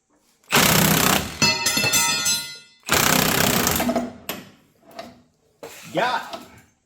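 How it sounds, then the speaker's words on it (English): Impact wrench driving a nut during repair work on a Blazer, with two long loud rattling bursts followed by a few shorter, weaker bursts, and brief pauses between them. "Might be tough to get the impact in on that nut"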